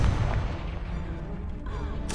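Hogwarts Legacy Incendio fire spell, a sustained whooshing, rumbling burst of flame with a heavy low roar throughout and a brighter flare near the end, loud and close.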